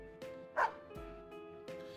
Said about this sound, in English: barks once as if comprehending its name